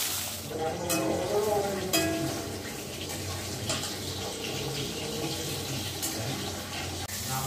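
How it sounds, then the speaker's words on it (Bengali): Fish curry (machher jhol) cooks in a pan with a steady, close sizzle throughout, while a spoon scrapes and stirs in short repeated strokes. "রান্না করছি একটু মাছের ঝোল"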